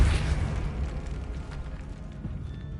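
A Depulso spell blast in the video game Hogwarts Legacy, a single loud booming burst at the start that decays into a low rumbling tail.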